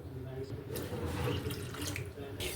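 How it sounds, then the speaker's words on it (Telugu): Water pours into beaten buttermilk in a continuous splashing, running stream, close and moderately loud, swelling in the middle and tapering toward the end. "బాగా బీట్ చేశాక రెండు కప్పుల దాకా నీళ్ళని వేసుకోండి"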